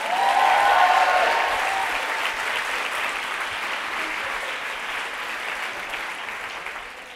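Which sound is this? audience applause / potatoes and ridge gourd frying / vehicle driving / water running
audience applause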